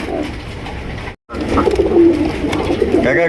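Indonesian Danish pigeons coo loudly and continuously at close range, their throaty, rolling calls overlapping in a crowded pigeon market, with one brief dropout in the sound.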